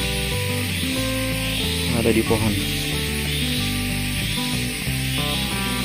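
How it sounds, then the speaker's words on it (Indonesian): Cicadas buzz steadily in a tree on a mountain trail on Gunung Ratai, a dense continuous hiss that runs under voices talking and other background sound throughout. "ini suara yang dihasilkan dari Cenggeret"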